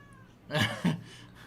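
A cat meows twice in quick succession, close by in a quiet room, with a faint household hum in the background.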